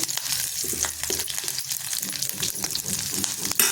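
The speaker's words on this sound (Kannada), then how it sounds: "ಇದಕ್ಕೆ ಸ್ವಲ್ಪ ಹಸಿಮೆಣಸಿನ್ಕಾಯಿ ಮತ್ತು ಬೆಳ್ಳುಳ್ಳಿ ಸ್ವಲ್ಪ ಹಾಕ್ಕೊಂಡು ಹುರ್ಕೋತೀನಿ" Green chillies and garlic frying in a hot pan give a steady, close crackling sizzle with scattered pops and light stirring scrapes throughout, no voices.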